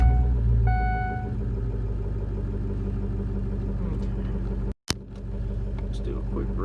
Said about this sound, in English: So go ahead and fire up the truck.